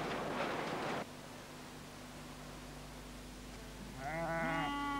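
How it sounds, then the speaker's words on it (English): Sheep bleat on the edge of the moor on a June morning at a Lothersdale farm with sixty sheep to clip. A quiet wavering bleat rises near the end after a stretch of low hum and hiss. "John Pickles has 60 sheep to clip"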